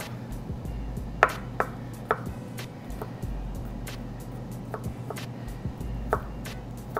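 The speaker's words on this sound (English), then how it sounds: "Let's get some garlic ready to rock. And you do want to cut this up finely." A knife finely chops garlic on a board with irregular quick taps, close up, over a steady low hum.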